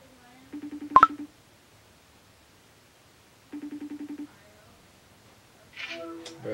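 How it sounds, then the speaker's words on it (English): Two short bursts of telephone keypad tones, rapid beeps in quick succession, with a click between and a brief rustle at the end. "I'm finna call Kimmy on y'all"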